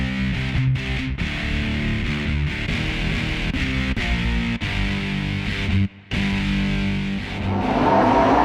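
Race car engines at the AMCA Nationals drone loudly in overlapping, distorted tones as several cars pass. The sound briefly drops out near the middle before the roar builds again toward the end.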